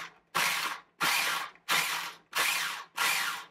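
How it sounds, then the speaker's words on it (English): A food processor chopping half a small onion, with five loud, close pulses of whirring blade noise, each about half a second long and separated by short silences. "we're just going to start by putting half of a small onion into the food processor"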